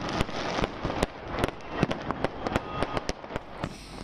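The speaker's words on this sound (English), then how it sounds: "one can also watch a splendid display of firecrackers that fill the night sky over" Fireworks over the Golden Temple in Amritsar at night, a rapid irregular string of sharp cracks and pops over a continuous crackling hiss, heard from some distance.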